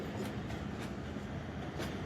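The Shalimar Express rolls along the rails on the Shorkot section, giving a steady rumbling roar with rhythmic clickety-clack wheel beats, heard from inside the moving train.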